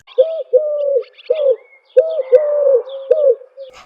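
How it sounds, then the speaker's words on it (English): Dove cooing in a series of soft, rounded low calls, about seven coos in uneven groups, close and clear with faint higher bird chirps in the background. "dove"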